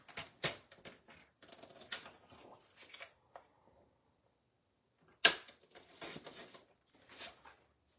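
Paper being cut for a scrapbook layout, with a run of soft, crisp slicing and handling noises, one sharp snap near the middle, and quiet gaps between the bursts.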